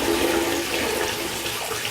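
Water runs from a tap into a container being filled with warm water, giving a steady, close, loud splashing rush with no letup and no voices.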